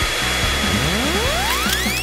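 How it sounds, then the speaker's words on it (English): A hair dryer whirs loudly and close, its motor spinning up with a rising whine after a brief dip, steady airflow noise filling the background with no talk. "I have a better idea. Yeah. A hairdryer."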